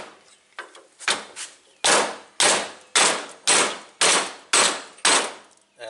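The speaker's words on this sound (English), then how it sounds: "gonna have a go with the hammer" Hammer blows striking aluminum engine mount tabs clamped in a vise on a 2008 Ford Focus, first a few lighter taps then a steady run of seven sharp, loud metallic strikes about half a second apart.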